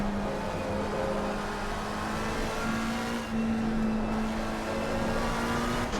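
A race car engine in the Assetto Corsa Competizione game holds a steady high drone as it accelerates, with a brief dip midway before pulling on again, smooth and continuous, with no voice over it.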